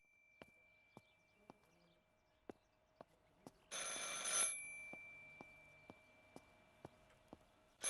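Telephone ringing in the video game Martha Is Dead: a steady electronic ring with faint regular clicks, interrupted by a short loud burst of noise midway, with no voices.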